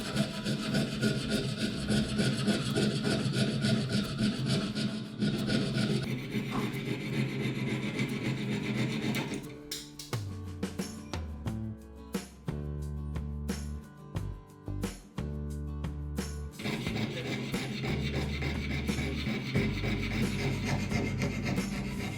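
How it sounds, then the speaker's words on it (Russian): A fine-blade hand fretsaw rasps through the body of a small Hot Wheels Chevrolet Corvette C2 Stingray model to cut headlight recesses, a continuous close back-and-forth sawing with rhythmic strokes that turn choppier midway. "Лобзиком с тончайшей пилочкой вырезаю ниши фар."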